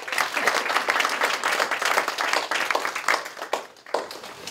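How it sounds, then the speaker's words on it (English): A church congregation gives a round of applause, a dense and steady patter of many hands clapping that carries on for a few seconds and then tapers slightly at the end. "Give Marion a round of applause."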